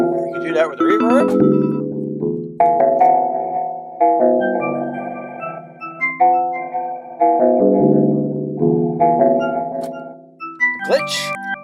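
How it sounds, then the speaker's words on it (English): Reverb effect from a Modbap Per4mer modular unit, modulated by an LFO, washing over sustained synth chords with swelling, shimmering tails that rise and fall across the passage, loud and continuous with no speech. "Or you can do that with the reverb."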